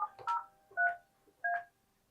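Telephone keypad dialing the extension 703 on an office phone system, three clear, evenly spaced tone bursts with quiet gaps between them.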